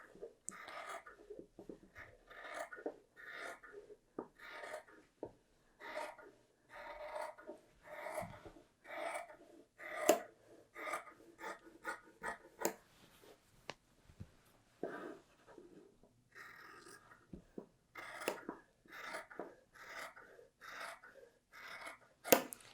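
Sharp scissors snipping through two layers of fabric during sewing pattern cutting, a steady run of short crisp cuts in rhythmic clusters, close and fairly quiet with no talk.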